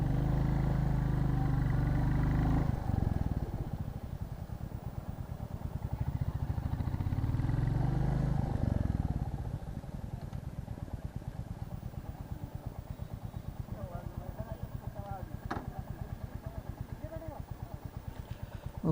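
A Royal Enfield motorcycle on a test ride, a steady close engine drone with rapid pulsing firing and a rough wind-buffeted rumble that eases partway through, running throughout.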